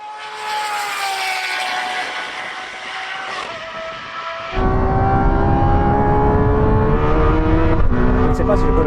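A Lamborghini Temerario and a Revuelto accelerate hard in a half-mile drag race, engines roaring loudly with rising pitch through the gears, then a sharp gear change into a deeper, louder surge, heard close from inside the car.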